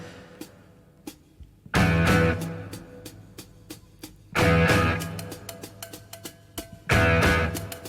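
The intro to a song, the opening track of a debut album, with drums: three loud, heavy chord stabs with sustained crash spaced a few seconds apart, separated by sparse, sharp percussive taps.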